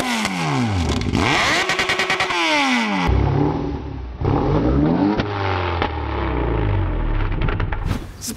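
Yamaha XJ6 motorcycle revving loudly up close with its exhaust wrapped in 100 layers of condoms, repeated throttle blips rising and falling in pitch, then a lower rumbling idle with rattly clatter.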